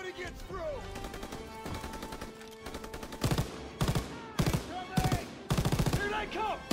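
Machine gun in Call of Duty: WW2 rips out loud, close bursts in a steady rhythm during the second half, preceded by scattered rifle fire and battle noise.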